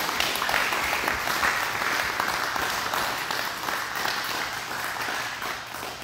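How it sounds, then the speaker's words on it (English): A church congregation applauds during a December service, a broad, even wash of many hands clapping at moderate volume that holds steady and eases off slightly toward the end. "So let's give them all a round of applause,"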